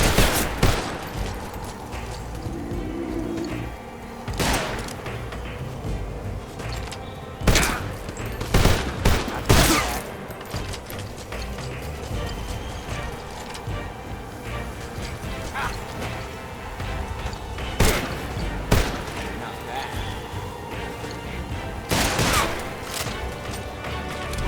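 Gunfire in Metal Gear Solid Delta: Snake Eater, with repeated loud bursts and single shots cracking across a busy game battle soundscape, spaced irregularly over a steady background.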